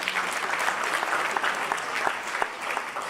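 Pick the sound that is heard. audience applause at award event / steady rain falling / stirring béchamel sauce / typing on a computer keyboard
audience applause at award event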